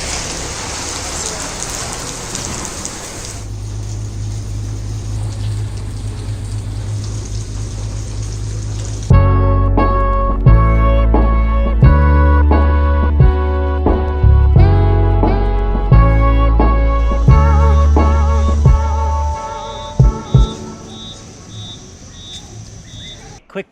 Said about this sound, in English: Look how hard it started to rain down.